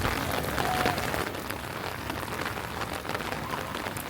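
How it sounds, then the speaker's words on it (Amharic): Heavy rain pours steadily over Kebena Park in Addis Ababa, a dense, even hiss of drops striking the ground and surfaces, loud and close with no pauses and no voices. "ዝናቡ እንደምትመለከቱት ነው፣ በጣም እየጨመረ ነው እየመጣ ያለው።"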